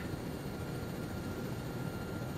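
Helicopter in the Arma 3 Vietnam-era military simulation, a steady broadband rotor and engine roar that holds constant and fairly close throughout, with no talking.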